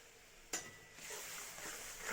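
Mixed vegetables with salt, turmeric and mustard are stirred in a pan: a sharp utensil click, then a faint, rising sizzle and scraping, quiet and brief.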